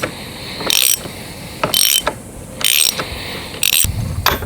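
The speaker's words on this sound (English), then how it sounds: "now I'm going to remove this bolt here" A ratcheting hand tool clicks and turns, loosening a bolt on a bicycle's steering assembly during a headset bearing upgrade, in four or five close, clattering bursts of mechanical ratchet noise with brief pauses between.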